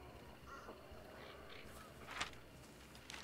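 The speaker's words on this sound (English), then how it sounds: "There's crows right here" A couple of faint, harsh crow caws sound in the distance over a low background hum, brief and scattered, in the video game Hunt: Showdown.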